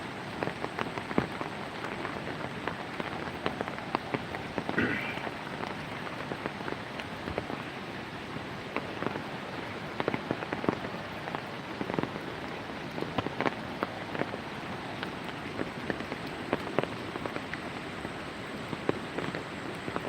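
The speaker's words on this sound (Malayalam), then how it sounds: "നല്ല ഒഴുക്കുണ്ട് ശക്തമായ ഒഴുക്കുണ്ട് കലങ്ങി മറിഞ്ഞുള്ള" A muddy river in strong flow rushes steadily in a dense, crackling wash, like a strong current churning past nearby without letup.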